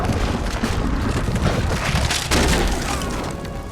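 Dynamite explosions in the Red Dead Redemption 2 video game, heavy booming blasts with crashing debris, loud and close, following one another with no letup.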